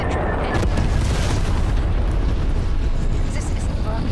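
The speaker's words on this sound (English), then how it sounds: "Napalm strike incoming." A napalm strike explodes in Call of Duty Black Ops Cold War, a loud, rumbling roar of booms and crackling bursts that continues throughout while a voice speaks over it.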